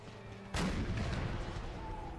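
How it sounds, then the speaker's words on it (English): Cannon artillery fire in an American Civil War video game: one heavy boom lands sharply after a half-second lull, then rumbles and rolls on through the rest of the moment, loud and close, with no talk. "these cannon shots are taking quite a lot of men"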